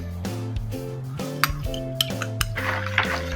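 A utensil stirs milk, yeast and salt in a bowl for ricotta bread dough, giving light scraping and a few sharp clinks against the bowl over steady background music.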